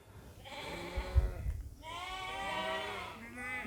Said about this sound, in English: Stopped here by a load of sheep.